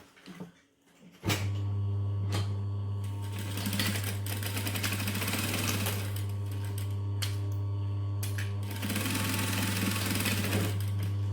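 A sewing machine stitches down an opened, flattened seam on a garment, running steadily and continuously close up for most of the stretch after a brief quiet start.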